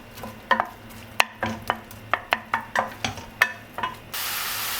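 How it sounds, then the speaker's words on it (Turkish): Onions sauté in a tablespoon of olive oil. A utensil knocks and scrapes against the pan in a regular series of close strikes over a soft sizzle, which swells into a louder hiss at the end. "sadece şimdilik bir yemek kaşığı zeytinyağında soğanlarım öncelikle kavuruyorum"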